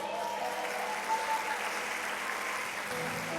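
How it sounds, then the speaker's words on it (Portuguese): A crowd at a Christian ministry gathering applauds in a steady, dense wash of clapping that stays even and sustained throughout, with no speech over it. "Você pode aplaudir Jesus por isso?"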